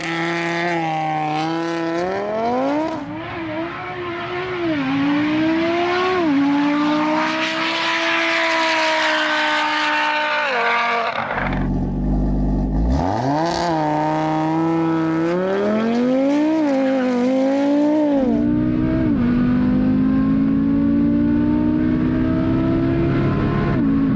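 An Audi RS3 drag racing car in the all-wheel-drive class accelerates hard, its engine revving loudly through rising gear pulls with a brief shift break midway, then climbing again.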